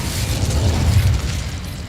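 The Incendio fire spell erupts in Hogwarts Legacy, a loud, dense rumbling blast of flame with a deep roaring body that swells and holds for a couple of seconds before easing off.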